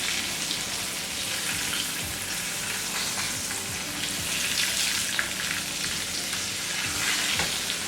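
Thin fish fillets frying in frothy coconut oil, a dense, even crackle and sizzle close up, with occasional sharper pops throughout and no voices.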